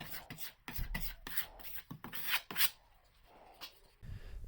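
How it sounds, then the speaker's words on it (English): Sandpaper rubs across a solid wood desktop in short, close back-and-forth rasping strokes, about a dozen quick passes that come in uneven bursts and then taper off quietly. "Then I finished sanding everything smooth with some 220 grit."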